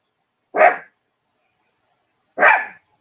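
A big dog barks twice indoors, two loud close single barks about two seconds apart with silence between them.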